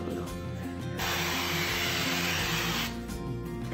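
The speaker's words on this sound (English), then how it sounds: "So now we're gonna spray the pan" Avocado cooking spray hisses onto a pan in a kitchen, a single loud, steady aerosol burst lasting about two seconds, close to the listener.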